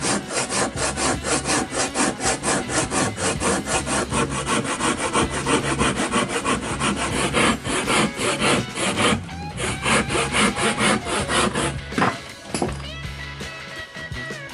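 A hand saw cuts through wood while a wood stove is being installed in a sheepfold, its strokes rasping steadily and close up for the whole stretch with only a brief break near the end.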